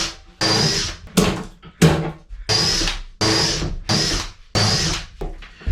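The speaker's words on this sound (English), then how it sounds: "Countersinking them fairly deeply in case I have to trim this a little bit and I don't want to nick the heads." A power drill countersinks screws into wooden boat steps in about eight short, sharp bursts, each a loud whirring spin-up that stops abruptly, separated by brief pauses.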